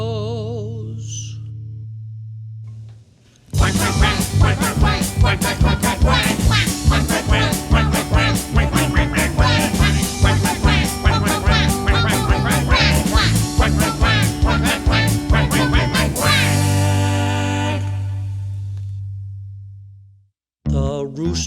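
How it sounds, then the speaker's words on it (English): A duck quacks in a loud, rapid, relentless stream of repeated quacks lasting well over ten seconds, close and dominant, before trailing off into a lower sustained tone. "But the duck goes."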